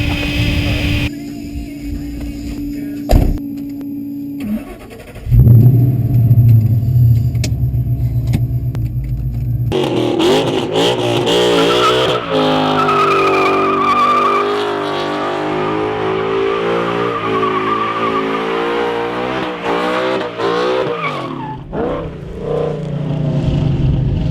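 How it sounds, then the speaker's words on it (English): A Mustang Cobra with a Coyote 5.0 engine swap does a burnout, revving hard and roaring continuously for a long stretch, with rising tonal whine and screeching tires, loud and close, no talking. "That was a burnout."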